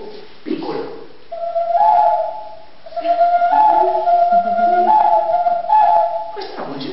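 A small owl-shaped clay ocarina plays a steady, breathy whistled melody of sustained notes with short breaks between phrases, near and fairly loud, no talking over it.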